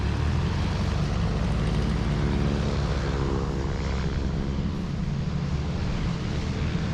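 A propeller aircraft with a radial engine runs steadily nearby, a loud continuous droning rumble with no break throughout, and no voices.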